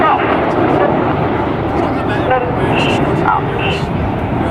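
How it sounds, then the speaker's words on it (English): Red Arrows Hawk jets flying in tight Apollo formation at the RIAT 2006 airshow, a steady broad roar of jet engines under a commentator's voice. "in Apollo formation with the aircraft only 6 to 8 feet apart"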